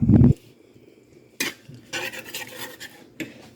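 Onions and flour stirred in a metal pan with a utensil, a few separate scraping clinks and rubbing strokes close by, with a brief louder knock at the start and no talking.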